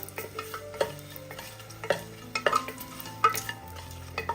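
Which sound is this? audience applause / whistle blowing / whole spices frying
whole spices frying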